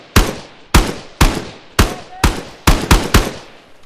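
Eight single-fire gunshots in the video game Exfil Zone ring out loud and close, spaced at an uneven, deliberate pace, each a sharp crack with a short decaying tail.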